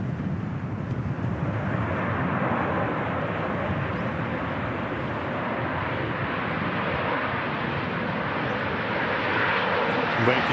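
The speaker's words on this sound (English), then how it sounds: "Now Ryanair just touching down from Budapest." Ryanair airliner touching down from Budapest at Manchester Airport on a windy day, a steady broad roar of engine and rushing air that holds evenly throughout, with no talk over it.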